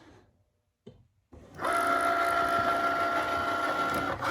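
A Cricut Maker cutting machine starts up after a short quiet pause, then runs loud and steady with a continuous mechanical whir and hum close by, nobody talking over it.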